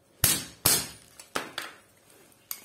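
A hammer strikes the brush of an AEG washing machine motor being broken apart for scrap, six sharp metallic blows in an irregular sequence, the first two loudest, each ringing briefly before fading.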